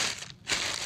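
A piece of clay is sliced off a block for a Jomon-style coil pot, giving a close, rough scraping rasp that pauses briefly midway and then resumes.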